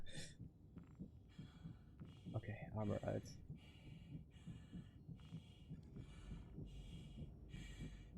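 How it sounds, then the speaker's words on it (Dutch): A slow, regular thumping heartbeat in the video game Star Citizen pulses throughout, with someone speaking briefly over it and faint rattling in the background. "Ik hoor mijn hartslag in mijn oren."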